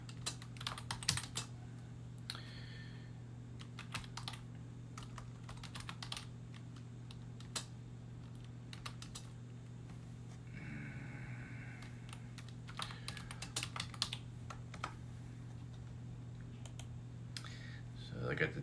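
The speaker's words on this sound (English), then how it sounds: "Give me just a second while I sit here and type." Bursts of typing on a computer keyboard, quick clusters of close, faint key clicks with pauses between them over a low steady hum.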